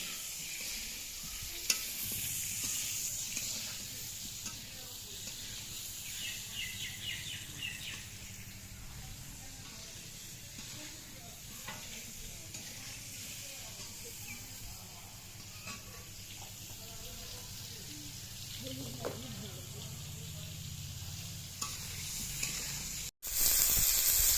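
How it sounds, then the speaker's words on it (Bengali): Pointed gourds (potol) sizzle steadily in a pan of hot oil with occasional stirring, a continuous close frying hiss lasting throughout, ending in a brief louder clatter. "পটলগুলো আমার ভেজে নেওয়া হয়ে গেছে দেখুন।"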